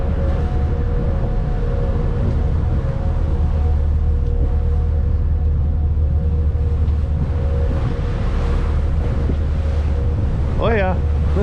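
A ferry crossing from Cedar Island, North Carolina rocks on rough sea, with a constant roar of wind buffeting the microphone over engine rumble and wash of waves, and a voice briefly heard near the end.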